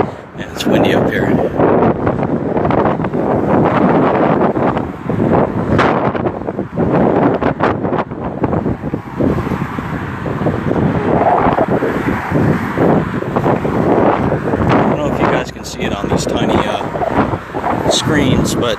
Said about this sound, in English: Yeah, it's windy up here.